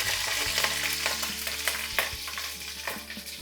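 Dried red chillies and green chillies fry in hot oil in a pan for mango pappu charu, a steady close sizzle broken by repeated scraping stirs, with no voices.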